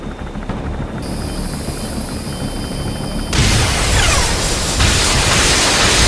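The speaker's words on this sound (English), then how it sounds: "That's an enemy gunship." Enemy gunship helicopter in Metal Gear Solid V, a loud droning rotor wash that swells into a heavier roar with broad noisy rumble, no talking.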